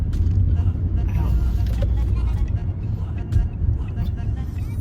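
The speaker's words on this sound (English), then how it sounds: "Like 4 cars just pulled in to the Chevy place." A steady, loud low engine rumble of cars pulls into a Chevrolet dealership lot, with traffic noise filling the scene continuously and no clear individual pass-bys.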